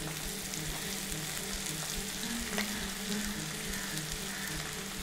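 Sliced garlic, about 150 g cut lengthwise, fries in a pan for mutton varuval with a steady, close crackling sizzle that stays even throughout, with no talking.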